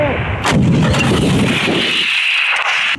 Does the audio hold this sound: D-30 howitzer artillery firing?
yes